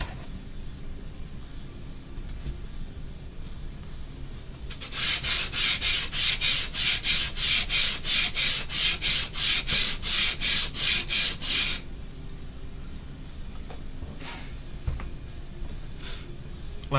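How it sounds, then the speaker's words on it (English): A diorama piece is sanded by hand, giving about seven seconds of close, rhythmic rasping strokes in a steady back-and-forth pattern, framed by quieter room noise and a few light taps afterward. "right here, I gotta sand just a smidgen"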